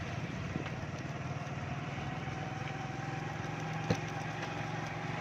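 A motorcycle rides slowly along a deeply muddy road in rainy weather, its engine a steady, low-level drone with a faint click or knock near the end, heard alone without talk.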